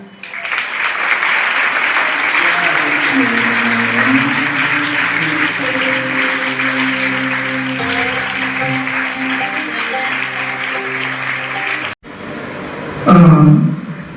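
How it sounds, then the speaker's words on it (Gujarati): A school audience clapping together in a long, loud, steady round of applause that runs about twelve seconds before cutting off, followed by a brief voice. "આપણે સૌ તાળીઓ"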